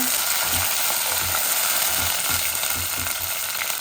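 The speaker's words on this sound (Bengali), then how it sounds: "জাল দেওয়া পেঁয়াজ আমি পরিমাণ মতো দিলাইমু" Onions frying in a pan for a rohu fish and tomato curry, a loud continuous sizzle with soft rhythmic stirring thumps, close up and without speech.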